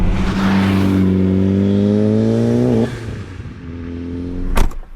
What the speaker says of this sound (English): just get your foot in and get it on the boost and you're flying